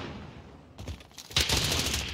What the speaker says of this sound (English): Taking fire over here.